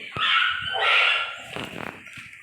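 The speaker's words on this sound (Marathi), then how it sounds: "कुत्र्यांचा आवाज येतो. मला भीती वाटते." Dog barks and yips in Minecraft ring out close and fairly loud over the game's background tones, a short burst of several barks.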